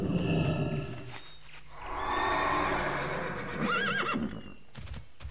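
A horse neighs and whinnies in a long, wavering call in World of Warcraft, with clip-clopping hooves and a busy, layered background around it.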